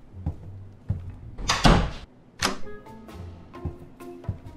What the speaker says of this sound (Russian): Дверь в комнате закрою